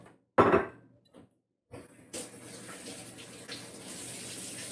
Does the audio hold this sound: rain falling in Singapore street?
no